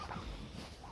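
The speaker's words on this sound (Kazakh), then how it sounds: "Мынау біздің тауықтарымыз." Domestic fowl in a village yard, calling in a steady, close, continuous burst of clucking and gobble-like chatter with no talk over it.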